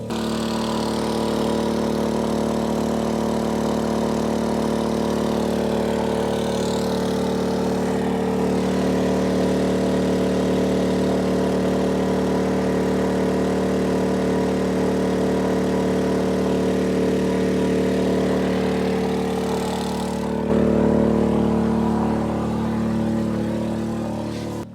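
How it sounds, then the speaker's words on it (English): Inverter generator running steadily nearby, a continuous even engine hum with a slight rise in load near the end, no talk over it. "So it is a inverter generator, so it's fairly quiet, but I mean, it's still a generator."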